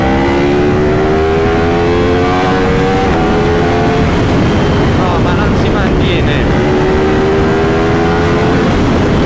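A 2023 Yamaha MT-10 SP motorcycle accelerates hard through the gears and lifts into a wheelie in fourth, its engine note climbing in rising sweeps with a shift around three seconds, loud and close, under excited talk.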